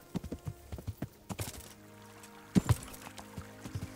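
Horse hooves clip-clop in the medieval video game Kingdom Come: Deliverance, a quick run of close, sharp knocks followed by a brief pause and a few more scattered hoofbeats.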